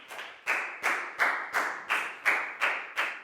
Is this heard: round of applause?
yes